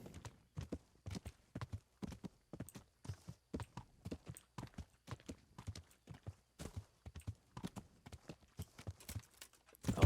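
Horse hooves clip-clop steadily in the video game Kingdom Come: Deliverance, a brisk, even rhythm of sharp hoofbeats that stays close and clear throughout, with no talking over it.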